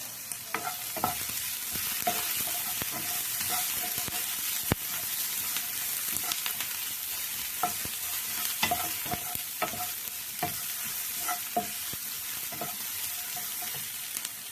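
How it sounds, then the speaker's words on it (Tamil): Onion and capsicum sauté in oil for a lunchbox dish, giving a continuous close sizzle. A spoon taps and scrapes the pan again and again while stirring, and there is one sharper knock partway through. "அப்படி வெங்காயத்தோட குடமிளகாயும் போட்டு வதக்கி எடுத்துருவோம்."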